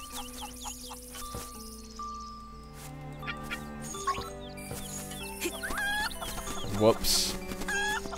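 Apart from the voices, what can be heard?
chicken clucking in Link's Awakening video game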